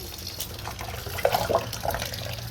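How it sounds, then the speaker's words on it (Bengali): Water being poured while a child is bathed, a faint splashing and trickling of liquid under steady background noise, with a few brief louder splashes. "সকালের অধিকাংশ কাজকর্ম সেরে এখন ধানিকে স্নান করাচ্ছি"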